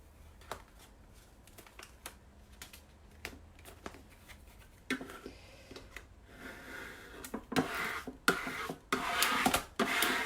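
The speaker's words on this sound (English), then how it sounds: "as you're peeling this off, none of the little pieces are sticking to the backing" Cricut-cut vinyl stencil being peeled from its backing for a painted ice cream sign, with close, scratchy rustles and crinkles that grow louder and denser toward the end, no talking.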